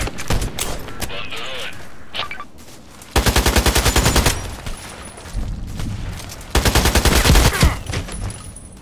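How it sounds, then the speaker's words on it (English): Bursts of automatic rifle fire from an AKMS in the shooter game Contract Wars, two sustained loud volleys of rapid shots plus scattered single shots and clicks, with a voice talking in between. "I need some more shots to take him out."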